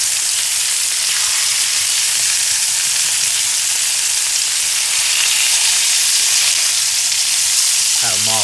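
Dry-brined picanha steaks sizzle loudly and continuously in hot rendered fat, a dense, steady frying hiss that stays close and even throughout.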